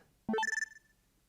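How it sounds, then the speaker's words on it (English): A cell phone video-message alert tone from the game Steins;Gate 0: a quick rising run of bright electronic chime notes lasting about half a second, with a short ringing tail, heard alone. "Zua heard a sound from her cell phone"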